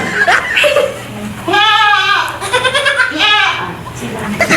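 A goat bleats twice, loud and close, with wavering calls at a tilak wedding ceremony as voices chatter nearby.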